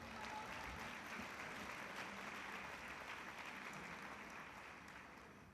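Steady applause from a large crowd at an address to athletes, heard at a distance as a continuous even patter that fades slightly toward the end.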